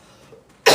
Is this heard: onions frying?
no